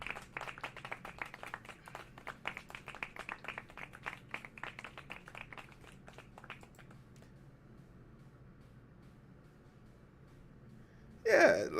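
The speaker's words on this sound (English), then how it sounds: "Clap it up." A quick burst of hand clapping from a few people sounds close and fast for several seconds, then fades to near quiet before a sudden loud noise at the end.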